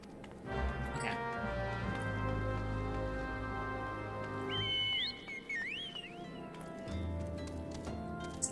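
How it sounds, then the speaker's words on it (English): A chocobo whistle in the Final Fantasy XIV video game, a bright rising and warbling whistle tone about midway through, sounding over a layered musical game score with steady percussive ticks, no voices. "Chocobo whistle is so fucking loud."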